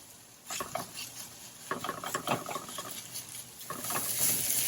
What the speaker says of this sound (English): As long as the pan is hot, you can keep stirring it.